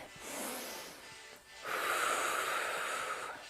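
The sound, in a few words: deep breathing during workout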